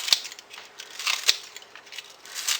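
A few quick, crisp snips of kitchen scissors cutting green onions, close by and irregular, with light crinkly rustling between the cuts.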